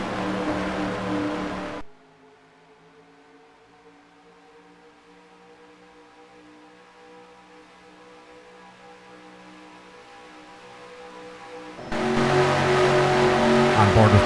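Simulated NASCAR stock car engines at Daytona in the NR2003 racing game, a loud pack roar at the start and end with a quieter stretch of steady engine drone between.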